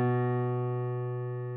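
A piano chord rings out close and clear, sustaining and slowly fading with no other sound.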